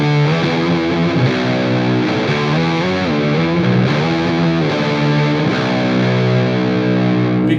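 An electric guitar in drop B tuning plays through heavy distortion, thick sustained low chords with sliding pitch changes, loud and continuous with no voices.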